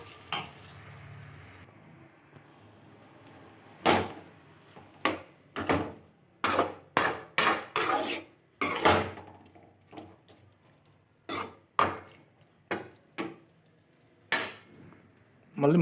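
A spoon scrapes and clanks against a pot as tomato is stirred into an egg curry, a series of sharp, close metallic knocks in irregular bursts separated by quiet pauses.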